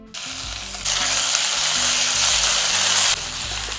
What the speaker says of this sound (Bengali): আদা রসুন বাটাটাকে হালকা একটু ভেজে নিয়েছি